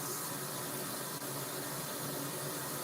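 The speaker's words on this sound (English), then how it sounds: "Then you're going to put some water in there." Water pours steadily into a container of vinegar for cleaning a tankless water heater, a continuous broadband rushing that stays even and fairly close, with no talking.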